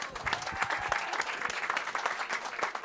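An audience at a honey festival quiz in Mouans-Sartoux applauds the winners, brisk continuous clapping from a modest crowd, fairly close and lively throughout.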